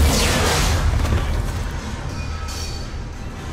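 A bomb detonates in the Mass Effect 3 video game, one heavy, booming blast that hits loudly at the start and then rumbles and fades over several seconds.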